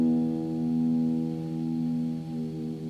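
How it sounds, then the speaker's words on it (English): A clean electric guitar chord, neck pickup, through a Vox AC30 amp with flat EQ, rings out and sustains, warm and bell-like with slight shimmer, fading slowly over a few seconds. "playing through a Vox AC30. I've got the EQ set pretty flat, and just so you can hear the clean tones"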